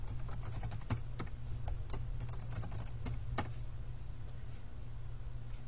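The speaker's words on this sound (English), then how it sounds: "you have to plug in your username and password" Keys on a computer keyboard clatter in quick, uneven bursts of close, light clicks as a username and password are typed, with short pauses between strokes and no talking.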